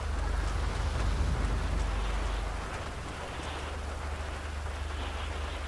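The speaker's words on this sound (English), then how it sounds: "so I don't know how long it's gonna rain for." Steady rain hisses in a NASCAR racing video game at North Wilkesboro, a constant, even wash of noise over a low rumble, fairly faint and with no talk.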